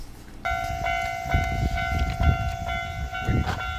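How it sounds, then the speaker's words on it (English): A railroad crossing bell rings in a steady repeating pattern while a train passes, with rumbling rail noise underneath at moderate distance. "railroad crossing train sound"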